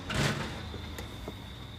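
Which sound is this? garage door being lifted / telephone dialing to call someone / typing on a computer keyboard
garage door being lifted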